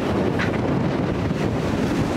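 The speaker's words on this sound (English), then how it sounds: "all the really loud wind noise inside" Loud, constant wind buffeting the microphone, a heavy roaring rumble with gusty fluctuations and no voices.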